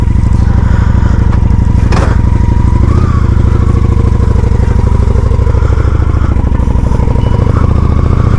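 Honda Shadow 750 ACE motorcycle riding at slow speed across a front yard, its engine a loud, close, continuous throbbing rumble with some clatter and no talk.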